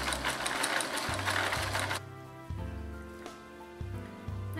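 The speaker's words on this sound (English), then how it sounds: "I'm gonna sew these two sides together to make the pouch" Home sewing machine zigzag stitching old wool shirt fabric for a possibles bag; a dense, rapid mechanical rattle runs for about two seconds, then gives way to quieter intermittent low hums and short bursts as the machine starts and stops.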